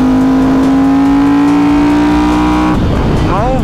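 Loud Ducati motorcycle engine revving close by, its pitch climbing in a long sustained wind-out before dropping off and rising again near the end.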